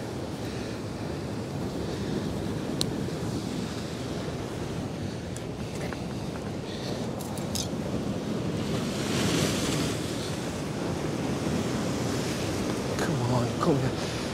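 Wind buffets the microphone on a rocky North East shoreline during cod bait fishing, a steady loud roar mixed with crashing surf that swells toward the end, with no one speaking.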